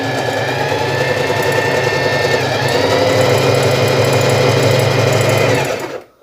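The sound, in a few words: Facilita Pro sewing machine stitching three-step zigzag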